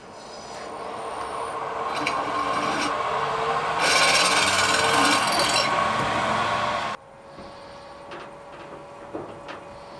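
A 5.1 mm twist bit drills a hole in metal, giving a steady close grinding rasp for about seven seconds before it stops abruptly, leaving quiet handling noises.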